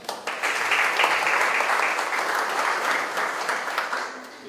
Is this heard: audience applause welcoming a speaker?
yes